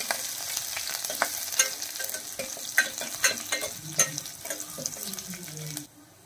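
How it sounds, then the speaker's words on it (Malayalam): Chopped small onions sautéing until brown, a crackling sizzle broken by repeated spatula scrapes and knocks against the pan, close and moderately loud, ending abruptly in near silence. "ഉള്ളി നല്ല ബ്രൗൺ കളറാവുന്ന വരെ ഒന്ന് വഴറ്റി"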